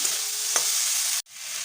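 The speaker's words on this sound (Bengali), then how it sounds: "একটা চামচ জিরের দিয়ে নিতে ভালো করে নাড়াচাড়া করে নিতে হবে" Cumin seeds being stirred in a hot pan for a fish curry with potato and eggplant, a steady close sizzle with a brief scrape partway through, then a sharp cut to quieter frying.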